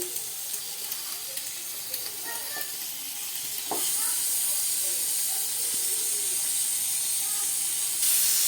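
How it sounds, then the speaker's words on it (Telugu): Four bunches of spinach go into a hot frying pan with egg, raising a steady hiss and sizzle that swells and holds, with faint clinks of the pan. "ఇప్పుడు ఫైనల్గా పాలకూర అయితే పెట్టేస్తున్నాను"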